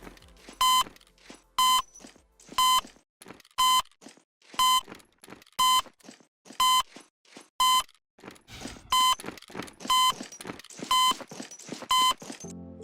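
In a video game speed test, a clean electronic beep repeats about once per second, about a dozen evenly spaced tones, over faint background clatter.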